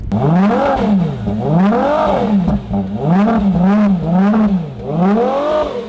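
A powerful Ferrari Purosangue engine revs repeatedly, pitch swooping up and down in several loud, rhythmic surges, close by with no talking.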